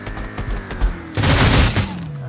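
Rapid gunfire bursts in the video game ROS, a scattered volley of shots followed by a louder sustained fusillade, close and punchy, with no speech over it.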